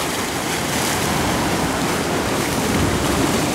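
Waves break steadily along the Sea of Azov shore near Golubitskaya, a loud, continuous close-up wash of surf and foam, with wind blended into the hiss.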